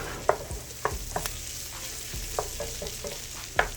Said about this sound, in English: right over here we have our meat. It's browning up real nice.